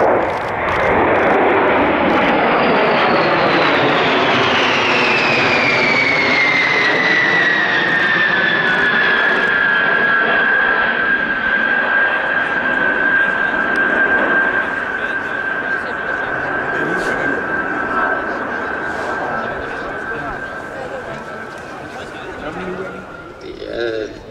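A U.S. Air Force B-52 Stratofortress bomber roars overhead at a Danish air show in Skrydstrup, its loud jet rumble and descending whine building, then slowly fading as it passes.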